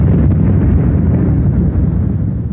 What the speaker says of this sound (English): The camera was turning at the moment the target was hit by high explosives.